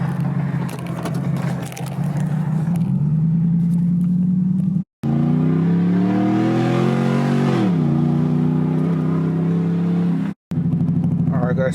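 A Ram truck engine with an open exhaust cutout revs and pulls through the gears, a loud, aggressive, rising drone with a sharp cut between shifts, close by, while people talk over it.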